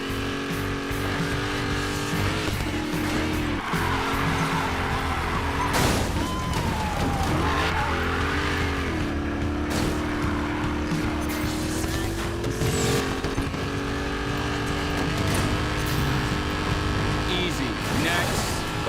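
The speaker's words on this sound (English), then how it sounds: "Better hurry, engines are revving." Race car engines rev and roar in a Need for Speed Payback race, with steady engine drones, pitch sweeps and occasional tire squeals, loud and close, while voices talk over the noise.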